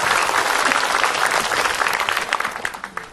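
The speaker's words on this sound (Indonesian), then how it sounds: "Tepuk tangan buat Ustadz Abdul Somad," A crowd at an Islamic lecture gives loud applause for a preacher, which starts full and thins into scattered individual claps toward the end.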